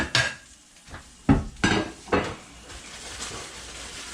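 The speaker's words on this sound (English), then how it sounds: "I might cut some more baguette" A knife cuts through a baguette at close range, giving a few crisp, separate cutting strokes with short pauses between them and no talking.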